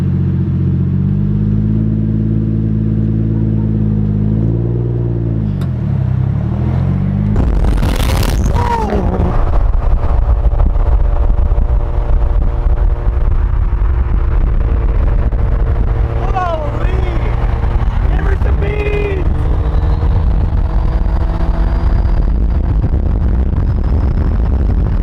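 A car engine idles with a low steady hum, then revs up sharply with a loud roar and settles into rumbling running, with voices talking over it in the later part.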